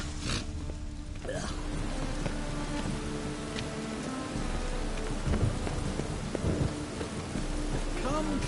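Rain falling in The Witcher 3 video game, a steady dense hiss of rainfall with low rumbles of thunder, continuous and moderately loud under faint game dialogue.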